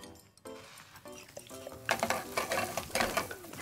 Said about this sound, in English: while still constantly stirring the pan